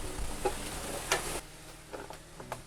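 Vegetables stir-fried with butter in a pan give a soft sizzle broken by a few sharp clicks of a utensil against the pan, fairly quiet and short.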